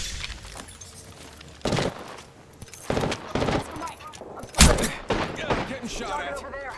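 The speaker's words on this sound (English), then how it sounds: "Getting shot at." Video-game gunfire in a battle royale match, several sharp bursts and single loud shots in quick irregular succession, some close and some farther off, with someone talking over them.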